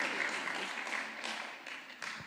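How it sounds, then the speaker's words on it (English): A university career symposium audience applauds continuously, a dense wash of many hands clapping at steady volume throughout, with no distinct voices over it. "So clap for your OB"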